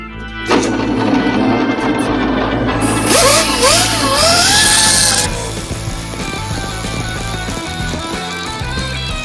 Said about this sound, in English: on this one we're going to be using a die grinder, and we're just going to sharpen the point